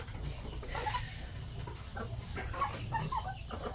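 Basilan native chickens in a dim breeding pen with a rooster give off soft, scattered clucks over a steady low background hum, the birds sounding fairly close but quiet.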